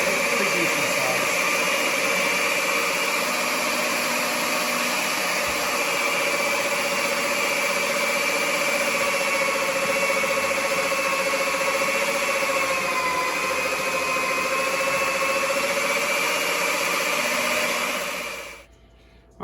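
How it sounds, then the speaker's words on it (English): A Cabela's electric meat grinder grinds meat with a steady, loud motor hum and whine that runs unbroken for nearly twenty seconds before winding down at the end. "All right, so I just finished grinding the meat."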